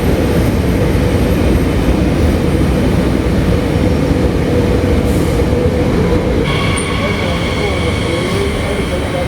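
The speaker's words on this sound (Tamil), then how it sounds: "இதுதான் இந்த மற்ற ட்ரெயின் வந்துருச்சு பாருங்க." Train arriving at a station on the SNCF Île-de-France line near Mantes-la-Jolie in France, a loud continuous rumble of rolling wheels and motors with a rising whine near the end.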